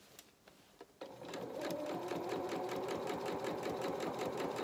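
A sewing machine stitches a faced lining seam on a dressmaking garment: a few soft clicks, then a steady fast mechanical whirr of the needle running close and continuous.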